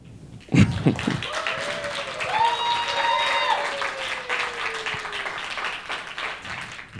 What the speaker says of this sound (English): So can we give a round of applause for all the black women in general?